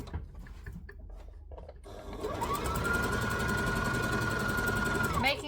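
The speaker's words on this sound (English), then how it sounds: "I'm going to needle down, stitch, back stitch, and then continue." A sewing machine stitches and back-stitches fabric for a pink dress, starting after a quiet moment and running as a steady, close, rapid mechanical whir for a few seconds before stopping.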